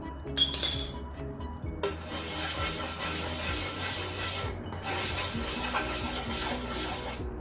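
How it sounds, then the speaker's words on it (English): A utensil scrapes and rubs oil across a very hot dosa pan, steady gritty rasping and sizzling with a couple of sharp metallic clinks near the start, close and fairly loud. "Pan must be really hot and spread some little bit of oil, not too much."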